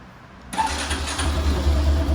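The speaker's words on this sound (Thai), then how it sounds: "เดี๋ยวเรามาดูตอนที่สตาร์ทเครื่องยนต์ครับ" A 2021 W110i fuel-injected motorcycle engine cranks and catches after a brief quiet moment, then settles into a steady, close idle rumble.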